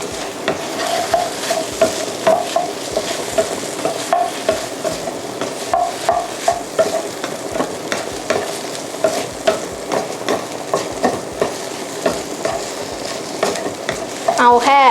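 Steady stirring in a frying pan as egg and shrimp are cooked with a tapioca starch slurry for Thai-style scrambled egg with shrimp. A constant sizzle runs under rhythmic scraping, close and moderately loud, with no talking.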